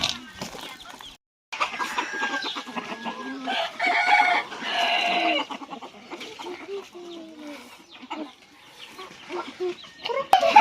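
Chickens raised by a hill village family cluck and crow in a farmyard, with a rooster crowing among steady clucking; the birds sound close, and a few quiet gaps break the noise.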